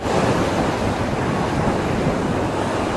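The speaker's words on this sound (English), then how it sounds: "waves beginning to lash the land as Typhoon Hagupit approaches" Ocean waves lash the shore as Typhoon Hagupit approaches, a dense continuous roar of surf mixed with wind buffeting the microphone, loud and unbroken throughout.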